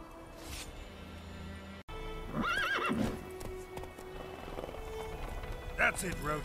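Horse Roach in The Witcher 3, hooves clip-clopping at a trot with a clear whinnying neigh and a second shorter neigh later, close and moderately loud over background game ambience.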